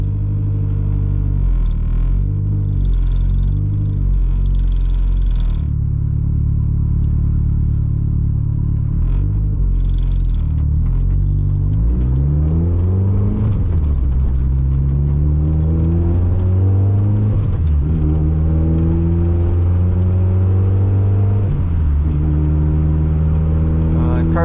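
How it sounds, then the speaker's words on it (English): A turbocharged 1.6L Mazda Miata warms up, its engine idling in a steady low rumble close by, then revving in a few rising and falling sweeps, with no talk over it. "Car's got to warm up a bit."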